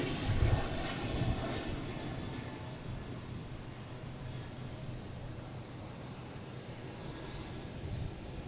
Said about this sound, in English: And we have a Delta heading to Seattle.